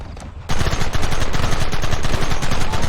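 Rapid gunfire in Red Dead Redemption bursts in after a brief quiet moment, loud close volleys of overlapping shots that continue in a dense, rattling stream.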